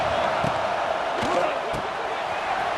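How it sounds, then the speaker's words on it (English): The stadium crowd at an Alabama vs Michigan college football game roars in a loud, unbroken wall of noise, with a few thumps and shouts rising out of it. "Listen to this crowd just shaking the girders of this place, trying to help their defense."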